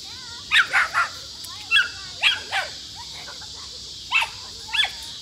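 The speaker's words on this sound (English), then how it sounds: "We got neighbor dogs and my dog out, so they bark at each other." Several dogs, neighbors' and one household dog, bark and yip back and forth outdoors in short bursts of two or three, moderately close, with quiet gaps between.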